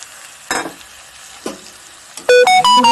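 Boiled peas and potatoes stirred into fried masala for ghugni, a few short close scraping and sizzling bursts over quiet frying, ending in a brief loud clatter of ringing metal.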